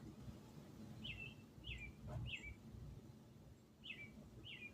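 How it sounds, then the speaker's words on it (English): Male cardinals chirp in short, high, clear notes, five or so spaced calls heard faintly at a distance over quiet outdoor background noise. "I love how the boy cardinals spend more time zazzing at the other birds than eating."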